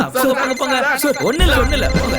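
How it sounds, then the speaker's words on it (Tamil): A mobile phone rings with a warbling electronic tone beneath two people talking loudly nearby, in a Tamil-dubbed horror film scene. "அது என்னோட ஃபோன் சார்."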